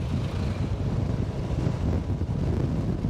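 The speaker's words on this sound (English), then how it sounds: "And it's really windy at the moment." Strong wind buffeting an outdoor microphone on Phu Quoc Island, Vietnam, a continuous low roaring rumble with no speech.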